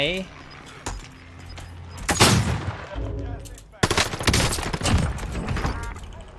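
Gunfire from an StG-44 rifle in Call of Duty Warzone Pacific: sharp shots and bursts close by, mixed with clattering game effects, while a player talks over the action.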